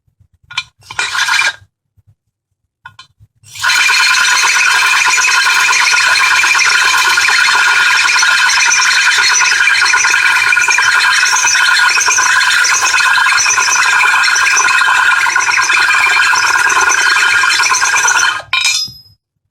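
A power drill bores through a glass wine bottle, producing a loud, steady grinding whine that runs for about fifteen seconds without a break, after a few brief starts and stops, close up.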